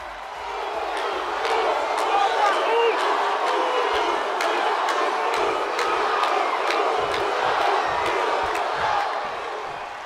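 A wrestling arena crowd cheers at a WWE Raw main event, a loud, dense roar that holds steady throughout with scattered shouts and claps rising out of the noise.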